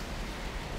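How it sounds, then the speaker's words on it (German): Rain falls in the zombie shooter game Left 4 Dead 2 as a steady, faint broadband hiss with no distinct drops or voices. "Es regnet wieder."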